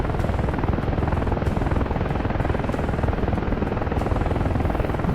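An AH-64A Apache attack helicopter in the DCS flight simulator drones loud and steady, its rotor beating in a continuous rapid chop with a constant engine whine and no pause throughout.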